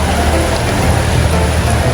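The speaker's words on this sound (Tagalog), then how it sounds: "umabot na naman kami ng ulan" Heavy rain pouring down in a steady, loud, unbroken roar, close by and filling the whole clip with no voices.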